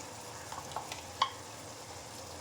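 Beef biryani masala is stirred in a pan, giving a soft, faint sizzle with a few light scraping clicks of the spoon and one sharper tap.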